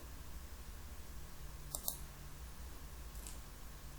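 Two quick, faint mouse clicks in close succession, followed later by a softer single click, while options are selected on a trading website in a quiet room.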